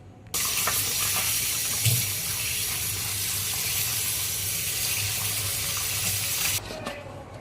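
Broad beans (chikkudukaya) being rinsed under running tap water in a kitchen, a steady, fairly loud rush of flowing water that starts abruptly and runs for several seconds before cutting off, with no talk.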